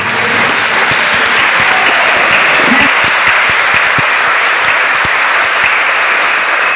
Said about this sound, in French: Ma mère, veuillez vous lever pour qu'on vous applaudisse.